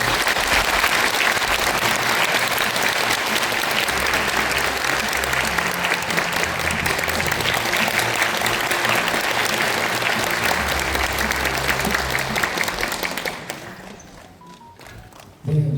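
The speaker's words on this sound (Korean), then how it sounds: "여러분의 큰 박수로 모시겠습니다" Audience in an indoor concert hall at a peace-themed music and talk event gives long, loud sustained applause welcoming a speaker, dense clapping that fades out near the end.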